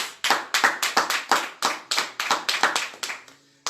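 A church congregation claps in a steady rhythmic beat, many hands together for about three seconds before stopping, with no talking over it.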